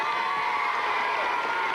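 A studio audience at a Halloween evening television show cheers and claps for an arriving guest, a dense, sustained roar of crowd noise and applause without a break.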